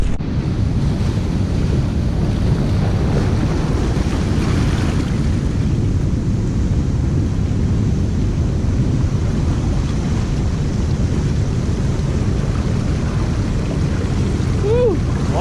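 Surf washes continuously onto a rocky shoreline where mussels are foraged, a broad steady roar of water mixed with wind buffeting the microphone, with no break in the rush throughout.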